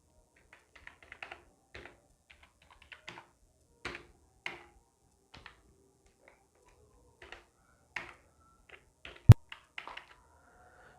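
A number is entered on a computer keyboard as sparse, quiet key clicks, near and in small irregular clusters separated by pauses, with one sharper knock near the end.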